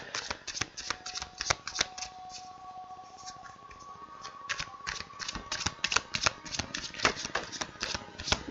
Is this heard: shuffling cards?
yes